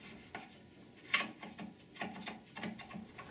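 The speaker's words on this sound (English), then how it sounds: "slide the selector shaft out of the case." A selector shaft slides out of a Ford E4OD transmission case with faint, intermittent scraping and metallic rubbing clicks in a quiet workshop, ending with a sharper knock.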